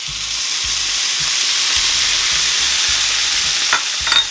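Capers frying hard alongside fennel and anchovies in a pan, a loud steady sizzle with low stirring scrapes and a couple of brief clinks near the end.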